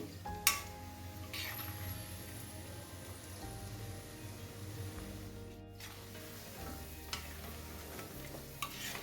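Corn pakoras deep-fry in a pan of hot oil with a continuous, bubbling crackle and a few sharper pops, close by and with no talking.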